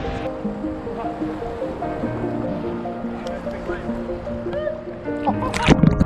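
Ocean waves wash and break steadily at Eagle Bay beach, with people's voices and splashing from swimmers mixed in close by.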